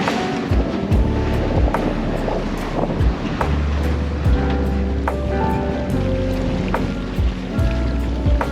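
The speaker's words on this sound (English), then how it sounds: "the sea's actually leveling out a bit, although the wind is really picking up right now." Strong wind buffets a small sailboat at sea as waves wash and slap steadily against the hull, a loud, continuous roar with repeated splashes and microphone wind rumble throughout.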